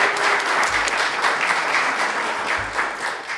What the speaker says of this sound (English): One more round of applause to Peer Support and Human.